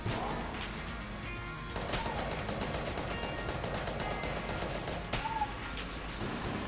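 Rapid automatic fire from the Hegemony Carbine in a video game, a dense sustained crackle of shots with a few sharper bursts standing out, close and fairly loud throughout.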